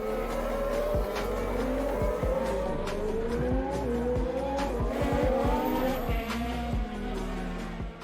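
Race cars at the Canadian Grand Prix, engines whining past at a distance with rising and falling pitch and brief tire noise, several cars overlapping over steady crowd ambience, no talk.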